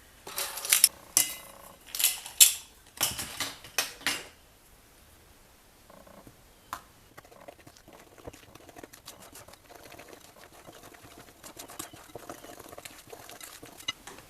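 Flour is stirred into cookie dough in a bowl, a series of scraping, thudding strokes loud and rhythmic at first, then softer irregular mixing and clinks close by.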